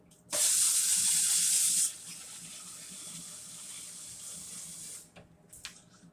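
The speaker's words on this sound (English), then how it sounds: "we're going to wash our hands," Tap water runs hard into a sink for hand washing for about a second and a half, then eases to a softer steady stream before shutting off, with a few faint clinks after.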